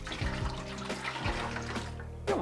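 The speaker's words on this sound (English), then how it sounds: "So I'm going to use the cold water to rinse out the pan." Cold water runs from a tap to rinse out a pan while making mango wine, a steady splashing flow with small sloshes and drips close by.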